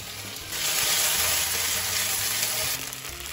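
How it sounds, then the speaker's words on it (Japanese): Gyoza pan-fry on high heat after sesame oil is drizzled in, giving a loud, dense, close sizzle that swells after a brief quieter start and eases slightly near the end. "最後に強火にして香り付けのごま油を垂らします"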